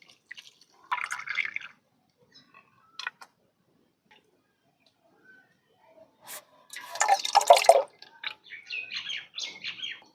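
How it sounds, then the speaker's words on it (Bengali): Grated papaya washed with water in a bowl, with a few scattered splashes and drips near the start and a louder burst of sloshing later, then lighter trickles. "এখন আমি পানি দিয়ে ধুয়ে নেব।"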